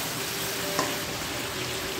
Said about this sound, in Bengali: আরও 5 মিনিট কষিয়ে নেব।